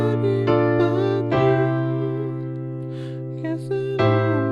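Piano playing the slow hook of a song, with sustained chords struck a few times and left ringing, a bass D underneath, and faint breathy sounds between chords.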